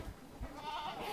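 A Kota goat, a long-eared doe, bleating on a goat farm: one faint, wavering bleat lasting about a second, heard alone against a low background without talk.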